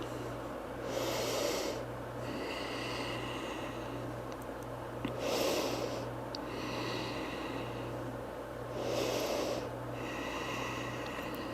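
Deep, slow breaths during a vinyasa yoga flow, three long airy inhale-exhale swells spaced evenly and close to the microphone over a low steady hum.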